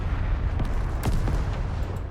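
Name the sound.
explosion in Call to Arms video game battle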